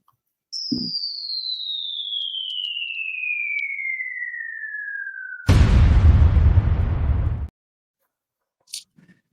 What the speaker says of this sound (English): we have a little explosion with a truth bomb